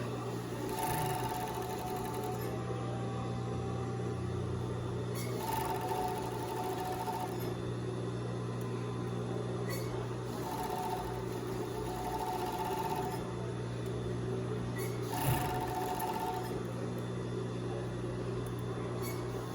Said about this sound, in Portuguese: Eu gosto de passar o overlock primeiro, ela fica mais estruturadinha pra passar a reta.